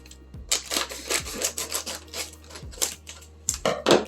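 Scissors cutting open a Stove Top stuffing packet: repeated rasping, crinkly snips and plastic rustling in an irregular rhythm, close and fairly loud, with no talking over them.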